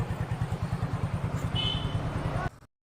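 A motorcycle engine idles close by with a rapid, even low-pitched putter, then cuts off abruptly near the end.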